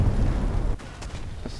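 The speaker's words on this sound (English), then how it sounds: "The main gun shoots the standard German 105mm heat shells" The Turm III's main gun in War Thunder firing a standard German 105mm HEAT shell: a heavy, deep boom that rumbles loudly, then cuts off sharply into a fainter tail.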